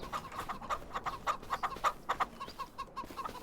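Chickens in Farming Simulator 25, a continuous low flock clucking in quick uneven pulses, soft and steady with no talk over it.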